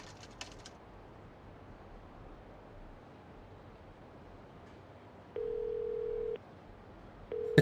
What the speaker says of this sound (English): Oh, that's the payphone